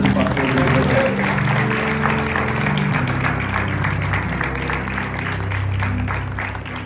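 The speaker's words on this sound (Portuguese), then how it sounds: "eu gostaria que você recebesse em honra, com uma salva de palmas, a vida do pastor Diogo Moisés." A church congregation gives a warm round of applause welcoming Pastor Diogo Moisés, dense steady clapping filling the hall with a low hum of voices and music underneath throughout.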